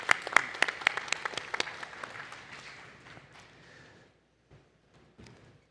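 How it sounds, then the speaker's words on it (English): A conference audience bursts into applause with sharp, distinct claps that swell, then fade, trailing off to a few last hand claps and near silence. "Give him a round of applause."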